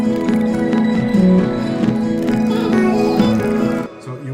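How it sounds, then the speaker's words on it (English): A sampled guitar part, chopped up into pieces and played back in Ableton Live, its sustained tonal phrases running continuously at steady volume before dropping away near the end. "So what you're hearing is this guitar part."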